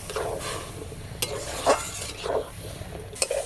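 Grated coconut sizzles softly in a pan while a utensil stirs and scrapes, with occasional light metallic clinks.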